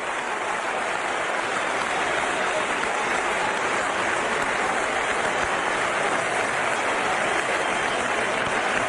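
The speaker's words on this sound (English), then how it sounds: "Standing ovation." A cricket crowd at a Test match gives a standing ovation for a century, heard over radio as a broad, continuous roar of applause, steady and loud without breaks.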